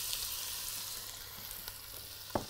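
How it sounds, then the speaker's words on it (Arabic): Chopped celery, onion and carrot cooking in a pan as a base for a Bolognese, a soft, even sizzle at moderate distance with a single brief clink near the end. "هنحط البصل، بصل أبيض أو أحمر مش فارقة، وهنحط الجزر."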